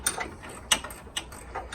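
Ratchet wrench loosening a bolt during suspension work on a Buick Grand National; faint quick clicking bursts come in short spaced runs, close by, and no one speaks.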